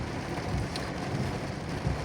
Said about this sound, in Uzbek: Hozir Qarshida yomg'ir yog'yapti.